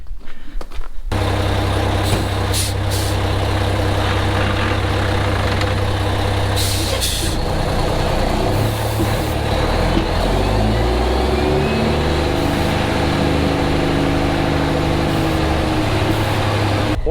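A Mack truck's diesel engine idles with a deep, steady rumble, joined by sharp hissing bursts of air brakes early and midway, then the engine note shifts and rises as the truck pulls away, close and loud.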